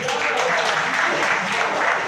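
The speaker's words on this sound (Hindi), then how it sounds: "आप लोग उनका भी स्वागत करिए ताली बजा करके" Loud, dense applause from an audience at an annual convention ceremony, welcoming a guest who is offering flowers; the clapping runs continuously and evenly throughout.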